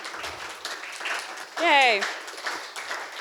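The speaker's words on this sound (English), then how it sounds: "And yes, you can clap." A gallery audience at an art exhibition talk claps briefly, with a voice calling out a cheer over the applause and talk continuing around it.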